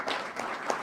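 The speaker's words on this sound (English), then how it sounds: "how many of you can give a round of applause to someone who has mentored you and shaped you in life?" Crowd at a community program applauds briefly, a quick, dense patter of clapping heard close.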